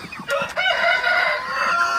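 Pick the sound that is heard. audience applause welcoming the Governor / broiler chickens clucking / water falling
broiler chickens clucking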